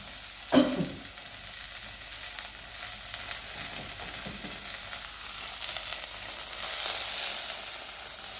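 Ingredients for tomato mango chutney fry in a pan, a soft continuous sizzle with a brief stir or clatter near the start, quiet and unbroken by talk.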